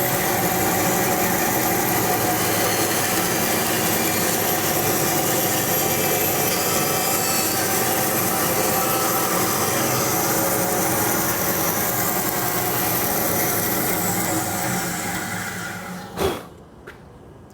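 An engine-powered saw runs loud and steady on a wood test piece for about fifteen seconds, then winds down into a sharp knock and quieter idle.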